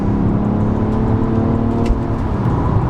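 BMW 335d xDrive diesel launching hard under launch control, its engine droning loudly and steadily from inside the cabin as it accelerates without a break.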